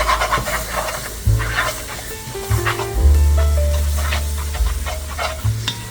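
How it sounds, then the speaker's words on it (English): A spoon stirring a shrimp etouffee mixture in a pot on low heat, with soft repeated scraping and light sizzling, plus intermittent low droning tones underneath. "you want to go ahead and stir it consistently"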